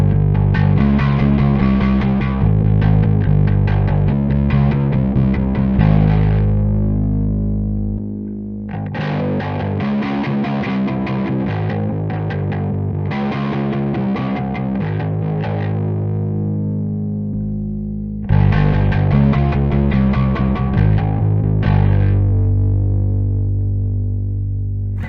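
Electric bass played around the 11th fret through a Sonicake Matribox II Pro multi-effects unit with the octave divider off and clean signal blended in, heard as distorted, effected phrases with pauses between them and no talking.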